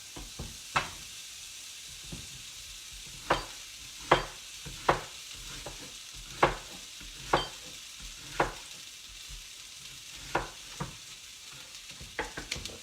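Shrimp sizzles steadily in a frying pan with olive oil, a soft continuous hiss broken by a dozen sharp pops and spatters at uneven intervals, close and fairly quiet, with no voices.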